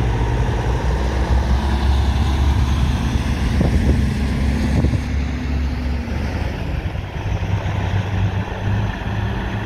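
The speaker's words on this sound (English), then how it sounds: "Some really good looking trucks heading out." Commercial trucks rolling out one after another on a charity poker run in Sanborn, Iowa, a steady loud low engine rumble with wind buffeting the microphone, no talk.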